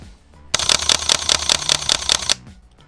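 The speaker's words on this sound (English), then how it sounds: "It's just like a real shutter that goes up and down." Original Sony A7 mirrorless camera firing its shutter at a fast shutter speed in a burst of about ten crisp mechanical clicks in quick steady rhythm, close and loud, followed by quiet.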